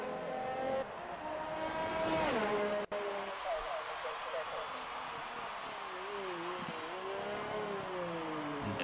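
Formula 1 car from the F1 2019 game on a hot lap around the Canada circuit, engine whine rising and falling through gear shifts and corners, steady and fairly loud with a commentator talking over it.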